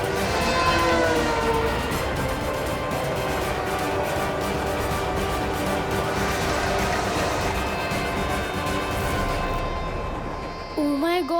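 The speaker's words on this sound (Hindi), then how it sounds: "कहीं ट्रेन ने बालवीर को कुचल दिया तो?" A train rolls steadily past with a loud, sustained horn blaring over the rumble of the cars, the sound staying close and constant before tapering off near the end.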